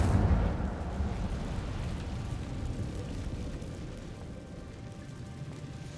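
An Incendio fire spell is cast in a Harry Potter game, a loud roaring burst of flame at the start that settles into a steady, dull rumbling crackle.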